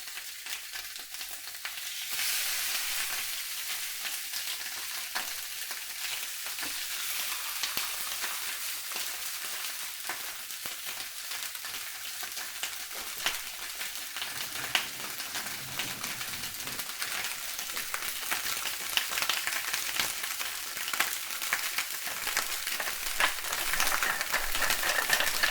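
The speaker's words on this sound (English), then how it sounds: "I'm going to just griddle it and then cook it" Sea bass fillets griddle skin-side down in a pan, giving a continuous crackling sizzle like light rain, steady and close throughout with no talk.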